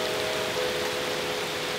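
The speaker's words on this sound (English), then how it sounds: "Rain is here." Steady rain falls during a Florida storm, an even close hiss of drops on surfaces that continues unbroken throughout, with a faint tonal hum in the background.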